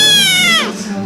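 A kitten gives one loud, high, drawn-out meow that slides downward at the end, heard close up.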